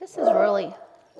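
A German shepherd gives a single short, whining bark-like vocalization up close, overlapped by a person speaking.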